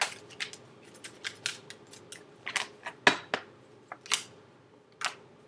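Tarot cards being shuffled up close: a run of crisp, irregular snapping flicks and riffles, some sharper than others, with no voices.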